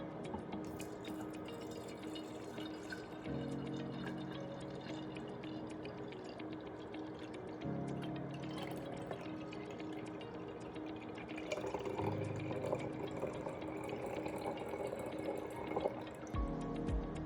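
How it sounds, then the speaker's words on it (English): Very hot tap water runs and splashes while a juicer is rinsed in a kitchen sink, a steady trickling stream with shifting pitch as the flow hits the parts, fairly quiet and without speech. "this is really, really hot water"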